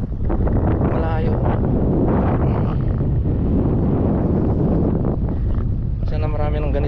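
Strong wind on a farm buffets the microphone in continuous gusty rumbles, loud and close, with brief voices surfacing beneath the blustery noise.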